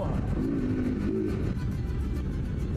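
A car's engine revs up as it accelerates, its rising drone clear over a steady rumble of road noise.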